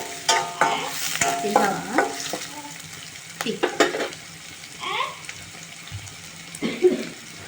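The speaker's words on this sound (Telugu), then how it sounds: "ఈ ఉల్లిగడ్డలు వచ్చేసి గోల్డెన్ బ్రౌన్ కలర్ రావాల్సిన అవసరం లేదండి మామూలుగా కొంచెం మెత్తబడితే చాలన్నమాట" Onions frying in a pan for a green peas curry, with soft sizzling and intermittent stirring scrapes, close and moderately loud, no talking.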